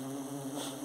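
Borá stingless bees (Tetragona clavipes) buzz steadily around a hive being moved from a 15-kilo bucket into a box, a close, continuous droning hum.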